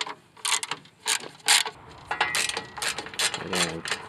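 A ratchet wrench fitted with a 10 millimeter socket works loose the bolts holding a fan shroud on a Yanmar engine's radiator, giving bursts of quick clicking strokes separated by short pauses, close and fairly loud.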